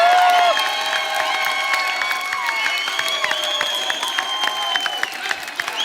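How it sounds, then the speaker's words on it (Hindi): Loud studio audience applause and cheering on The Kapil Sharma Show as Salman Khan is welcomed, a dense, steady roar of clapping with whistles and shouts throughout. "आप सबकी जोरदार तालियों के बीच में इनवाइट करना चाहूंगा"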